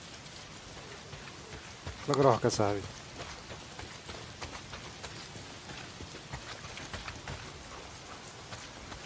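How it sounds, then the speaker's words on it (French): Heavy rain in the Days Gone video game makes a steady hiss throughout, close and continuous, while people talk over it and a brief voiced exclamation cuts in. "Pas s'il pleut des cordes, frangin."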